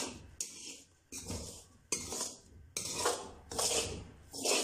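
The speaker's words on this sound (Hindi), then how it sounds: "सूजी हमने आहिस्ता आहिस्ता हिलाना शुरू कर दिया और इसको मुसलसल हमने हिलाना है ताकि ये जल ना जाए।" Semolina being roasted for rava laddu is stirred in a pan, a spoon scraping and clinking against the metal in uneven bursts with brief pauses between strokes, close and fairly quiet, with no talking.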